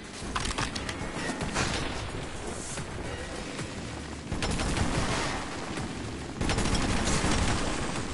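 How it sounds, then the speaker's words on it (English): Machine gun fire in the video game Metro Redux: sustained bursts of rapid gunfire mixed with booming blasts, loud and dense, with a fresh surge of shots near the end. "That's another goddamn machine gun."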